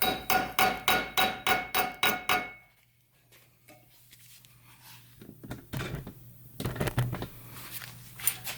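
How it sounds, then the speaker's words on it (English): A hammer strikes a soft metal tube on a custom vented valve cover, about eight quick, evenly spaced, loud blows in a row, then a pause and a few lighter scattered taps. "so just a little bit of hammering will flatten that back out"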